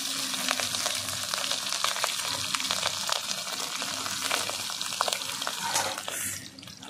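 Two torn dried red chillies frying in hot oil, giving a steady, close, bright sizzle and crackle that runs unbroken, then eases off briefly near the end.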